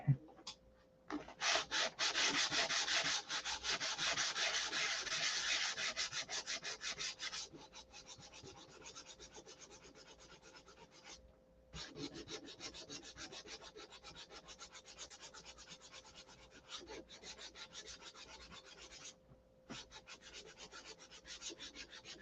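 Close, rhythmic rubbing strokes of 3M 400-grit sandpaper on the painted surface of a rudder, strongest at first and then lighter, broken by brief pauses.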